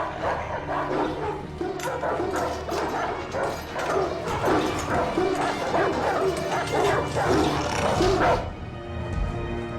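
Several dogs bark, yip and whimper in a dramatic TV episode scene, a dense, loud run of overlapping calls lasting most of the moment before easing off.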